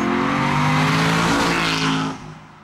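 Aston Martin V8 Vantage Roadster driving fast, a loud, close engine roar with a rising, strained note and tyre noise that cuts off sharply near the end.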